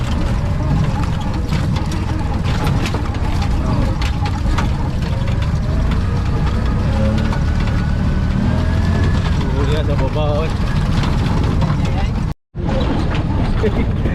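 A boat motor runs loud and steady on a trip to a Mindanao waterfall, a continuous engine drone with people talking over it and a brief cut near the end.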